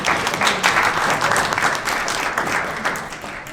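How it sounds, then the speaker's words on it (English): An audience at the ACLU of Rhode Island annual meeting breaks into applause, a dense burst of clapping close and loud, easing slightly toward the end. "round of applause for that"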